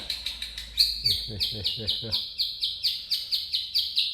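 A white-rumped shama calls nearby in a fast, repeating series of bright chirps and whistled notes, loud and continuous, with a faint low murmur beneath.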